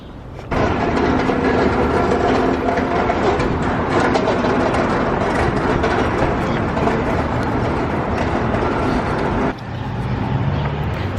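A train rumbles steadily close by near a Brooklyn station, a loud continuous roar with clattering over about ten seconds, briefly dropping before resuming.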